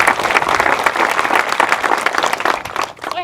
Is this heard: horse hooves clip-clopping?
no